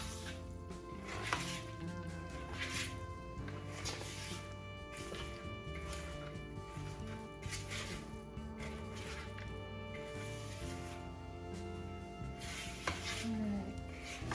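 Spoon stirring muffin batter in a bowl, a soft continuous scraping and knocking against the bowl's sides, faint and steady throughout.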